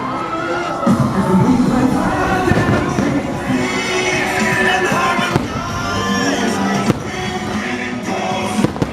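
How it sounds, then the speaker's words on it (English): A Disney World fireworks show during the Halloween party booms and crackles continuously under a noisy outdoor crowd, with cheering and children's shouts mixed in and sharp bangs popping out now and then. "Look at the fireworks."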